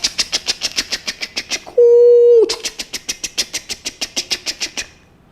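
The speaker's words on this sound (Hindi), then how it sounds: "रेलगाड़ी गुजरी।" A train passes in a cartoon-like effect: a fast, even clickety-clack of wheels, broken by a brief steady horn-like tone, then the clatter resumes and stops abruptly.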